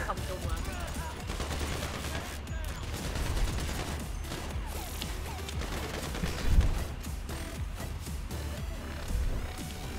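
Sustained gunfire during a survival match in GTA V Online, machine guns and rifles rattling continuously in a dense, layered barrage with occasional heavier thumps, steady and loud throughout.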